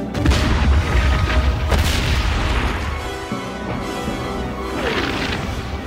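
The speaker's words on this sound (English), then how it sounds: "Give the artillery the order to open fire." Artillery fire in a war film set in the desert, deep booming blasts with rolling rumble and debris noise, loud and close, fading into a lower roar between the shots.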